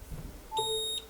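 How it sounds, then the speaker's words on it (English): Incipio wireless charger's buzzer sounding as an iPhone 8 begins charging, a single short electronic beep, close and clear over quiet background noise. "it engaged immediately, and there is a beep. It looks like this device has a buzzer"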